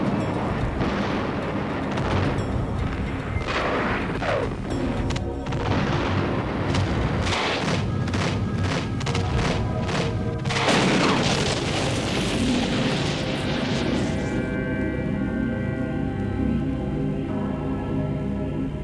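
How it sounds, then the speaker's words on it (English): M1A1 tank guns fire in battle as Iraqi tanks explode, heavy booms and blasts in rapid succession, loud and close, with rumbling aftermath and a fading tail, no voices. "With the guns of the superior American M1A1 tanks blazing, the Iraqi tanks are systematically incinerated."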